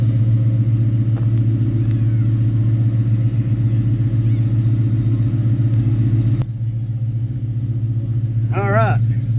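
A 2003 Ford Mustang Mach 1 with a fuel problem, its fuel pump priming the line, rumbles steadily up close, then cuts out abruptly, leaving a quieter background hum, with a brief voice near the end.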